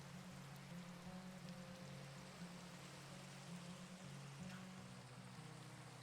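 Steady rain falling in the blocky game world of Minecraft, a soft continuous patter holding an even level throughout, with a low droning game tone running beneath it.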